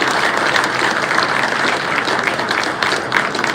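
Audience applause at the Jaisalmer Express train launch ceremony, a dense, steady wash of clapping from a large crowd that keeps going without a break at full strength.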